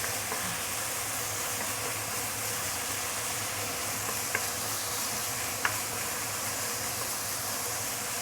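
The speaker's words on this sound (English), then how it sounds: "I love the sizzling sound." Minced beef sizzling in hot oil in a wok, a dense steady hiss and crackle holding at an even level throughout, with no voices.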